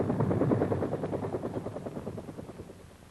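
A helicopter thumps steadily with a fast rotor beat, loud at first and gradually fading as it moves away, with no voices.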